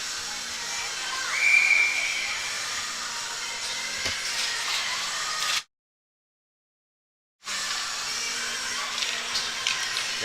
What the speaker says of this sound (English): Save made by Gould. Holds on for the whistle.